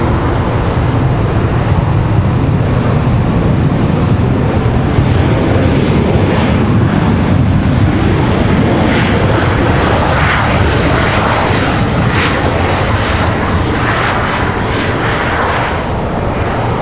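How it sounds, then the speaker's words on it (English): A United Boeing 787 Dreamliner bound for Barcelona takes off from Washington Dulles, its jet engines producing a loud, continuous broadband roar that holds steady for the whole stretch, with no voices. "Goes our Dreamliner to Barcelona."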